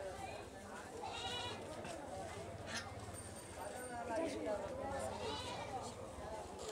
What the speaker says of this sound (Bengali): খুব সুন্দর একটা ছাগল, খুব কালারফুলও।